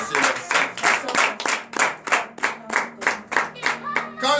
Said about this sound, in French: je vous demande d'applaudir pour remercier les saints.